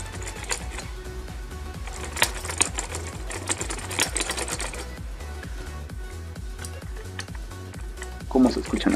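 Key presses on a Game Factor RGB gaming keyboard, a steady run of quick close clicks and clacks with a voice speaking briefly near the end.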